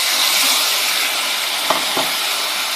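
Whole cumin seeds and ground cumin, green chilli and ginger pastes hit hot oil for a Bengali oil-cooked pointed gourd dish, giving a steady broad sizzle with a couple of soft stirring knocks near the end.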